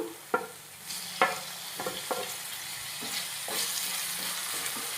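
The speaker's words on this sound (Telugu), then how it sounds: "ఇప్పుడు టమాటా వేసుకుందాం" Chopped tomato drops onto onions frying in a pan, followed by stirring: a few sharp clacks and scrapes over a soft, steady sizzle that swells toward the end.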